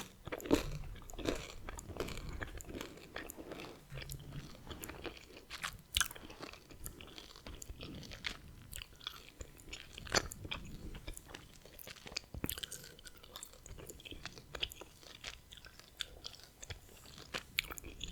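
Close, intimate gum chewing for ASMR, steady wet smacking and soft crunchy bites repeating irregularly throughout, with no talking.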